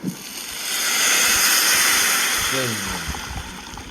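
Water pours into a microwave-safe Pyrex glass bowl: a close, steady hiss that swells and then tapers off, with someone starting to talk near the end.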